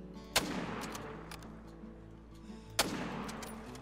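Two loud, sharp rifle shots from a 30-06 fired at a buck in the hunting video game theHunter: Call of the Wild, each followed by a rolling echo that fades, spaced about two and a half seconds apart.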